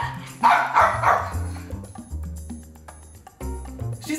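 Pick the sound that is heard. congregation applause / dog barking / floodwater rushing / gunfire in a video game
dog barking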